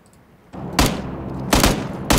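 Three loud bursts of gunfire in the video game PUBG: Battlegrounds, each a sharp crack trailing into a noisy decay, fired in quick succession over a steady low background rumble.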